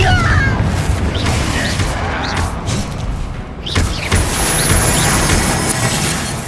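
Loud, dense blast of a Confringo explosion spell in the Hogwarts Legacy video game, a sustained roaring boom with crashing bursts and thuds that surges again midway through.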